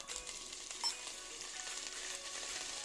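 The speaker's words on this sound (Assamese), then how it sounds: "আদাৰ পেষ্টখিনি মই ভালদৰে এবাৰ লৰাই দিছোঁ" Ginger paste frying in oil with panch phoron and bay leaf, stirred in a pan; a faint, steady hiss of sizzling with one soft knock of the spoon partway, no talking.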